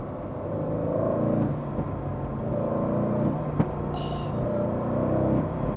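Aston Martin Vantage sports car engine holding a steady, throaty rumble with swells of revs, a single sharp exhaust pop near the middle, and a brief high chirp toward the end.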